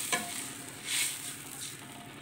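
Onions frying and being stirred in a pan while cooking potato and meat kofta, a steady soft sizzle with a brief louder stir near the middle, close and alone with no talk.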